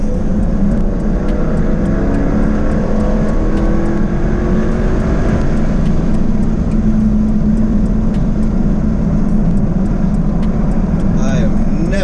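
A 2024 Jaguar F-Type sports car pulls away and accelerates, its loud engine note rising through the gears with steady road rumble beneath, heard from inside the cabin while a driver talks over it.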